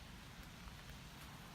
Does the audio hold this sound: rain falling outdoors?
yes